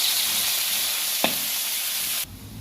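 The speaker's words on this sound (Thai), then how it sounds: "พอน้ำมันมันได้ตีได้ตังนะเจ้า ก็เอาเครื่องลงไปคั่วเลยนะเจ้า" Spice paste in hot oil in a wok gives a continuous close hissing sizzle with a single brief scrape midway, then the sizzle cuts off abruptly near the end, with no talking.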